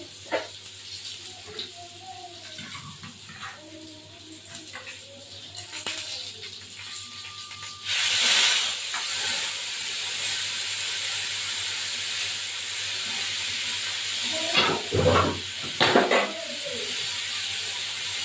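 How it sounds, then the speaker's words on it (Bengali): Cauliflower pieces dropped into a hot pan of frying potatoes for a Bengali katla fish curry, a sudden loud sizzling hiss of steam that settles into steady frying with clinks of a spatula. "দিয়ে দিলাম ফুলকপিগুলো দিয়ে দেবো এবার।"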